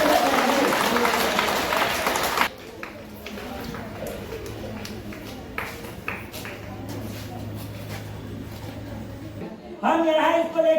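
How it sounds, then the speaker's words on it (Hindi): At a school event, a loud burst of crowd applause opens the scene. Quieter footsteps, taps and scattered activity follow as people run, and then another burst of clapping comes at the end. Voices can be heard throughout. "हाँ दौड़िए, जोरदार ताली होनी चाहिए।"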